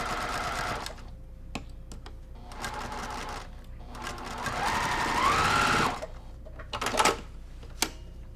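A sewing machine stitches a quilt block in several short runs of rapid needle clatter, separated by brief pauses, with one longer run near the middle and a few soft handling clicks.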